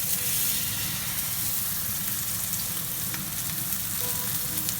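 Steak seasoned with salt, pepper, paprika and garlic powder sears in a pan on full heat, giving a steady, dense sizzle and hiss with no talking.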